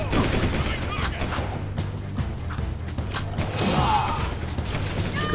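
Rapid bursts of gunfire aimed at a bomb to defuse it in the video game Jak II, dense crackling shots over a steady low game hum, with a brief talking voice.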